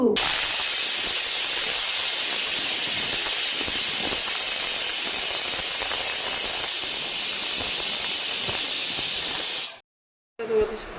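A pressure cooker with chicken lemon stew vents a loud, continuous steam hiss topped by a steady shrill whistle, which cuts off abruptly near the end before a brief final burst.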